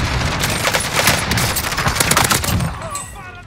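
Rapid bursts of gunfire in Warzone crackle loudly and continuously, overlapping in dense volleys before easing off near the end; game-style shooting with no clear talk.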